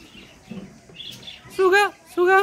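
Parrots and other birds at a zoo give two loud, harmonic calls near the end, one after another, following a stretch of quieter chirping and background murmur.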